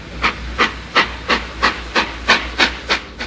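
Rhythmic bursts of steam hiss from the turbine circuits of the nuclear submarine Le Redoutable, about ten evenly spaced puffs over a steady low hum, close and fairly loud.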